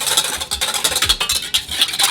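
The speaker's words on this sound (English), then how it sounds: "Now I'm going to whisk it." Muffin batter whisked in a big bowl for gluten-free organic blueberry muffins: quick, steady rattling and tapping strokes with a fast, uneven rhythm, close by and fairly loud, with no talking.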